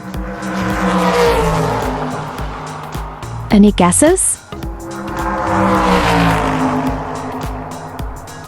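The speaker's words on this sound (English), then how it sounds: "It's a racing car." A racing car drives past with a broad, rising and falling engine roar and a brief tire squeal in the middle, loud and near, with a voice talking briefly over it.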